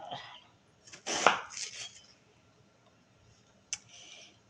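A knife slicing zucchini and chicken belly on a board, with a few scattered soft cuts and scraping sounds heard up close, separated by quiet gaps.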